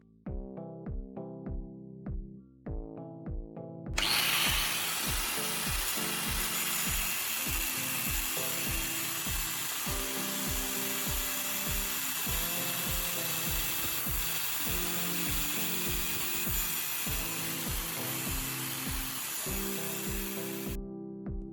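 A cutting tool grinds into a spark plug clamped in a vise, first a few sharp separate knocks, then a continuous harsh abrasive whine with regular rhythmic ticks running under it, close and loud.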